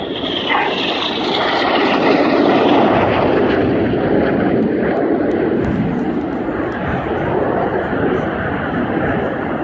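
Red Arrows jets roar overhead through 6G carousel turns at the RIAT 2015 air display, a loud, continuous broadband jet rush that swells and fades as the aircraft pass, with a voice speaking over it.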